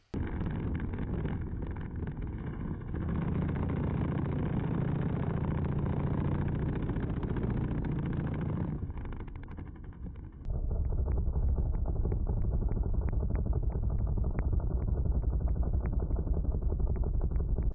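A mini airboat's engine drones continuously while it drifts across ice, loud and close with heavy wind rumble, shifting to a harsher, steadier roar partway through.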